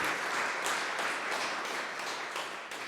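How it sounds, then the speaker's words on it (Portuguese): At an international poetry prize gathering, the audience applauds a group of poets with a moderate, continuous round of clapping that slowly tapers off. "Uma salva de palmas para este segundo coletivo de amigos que nos deram a honra da sua presença."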